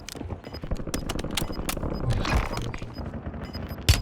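Rapid bursts of gunfire in a combat video game, sharp cracks in quick irregular volleys with a heavier shot near the end.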